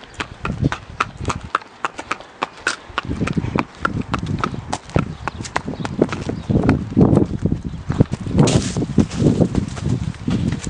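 Hooves of a horse clip-clop in a quick, uneven rhythm on the ground during a riding outing, close and fairly loud, with leaves rustling and a person talking in between.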